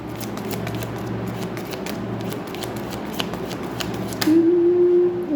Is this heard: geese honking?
no